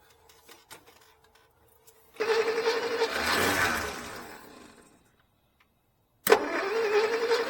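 After a carb cleaner prime, a 1960 Studebaker Lark is cranked twice: a whirring starter and rough engine catch that fades out, a few seconds of quiet, then a second loud crank with no voices.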